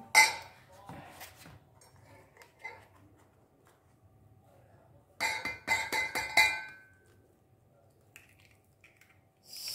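A container taken out and handled in a home kitchen while making leche flan: a few clinks and knocks early, then a burst of rattling, clattering contact near the middle, with quiet gaps between.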